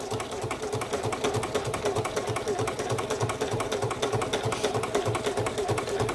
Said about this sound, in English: Now I do a couple back stitches in the corner.